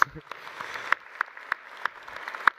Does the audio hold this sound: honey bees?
no